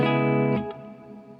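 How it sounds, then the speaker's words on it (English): Clean electric guitar played through a Fender Tone Master amp with reverb: a sustained chord rings, then is cut off, leaving a short reverb tail that fades away. "the mix is how much of this reverb is going to be heard in the final signal"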